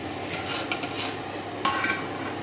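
A utensil stirs softly in a pot of wax and water with faint scraping, then a sharper metallic clink rings out partway through, followed by lighter taps.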